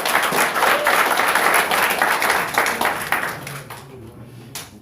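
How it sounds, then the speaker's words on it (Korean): An audience at an emergency meeting of conservative group leaders breaks into loud clapping for a speaker, dense at first and then thinning and fading out near the end. "오늘 백석수 김선현 대표님께 훌륭한 박수 한번 다시 부탁드리겠습니다"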